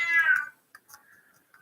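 A deaf cat lets out one loud, clear meow up close, followed by a few fainter, shorter chirping mews.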